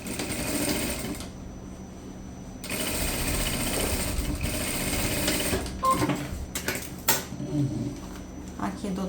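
A sewing machine stitches a straight seam on an ecobag with a divider, its loud buzzing whir running in bursts with short stops and clinks while a person talks.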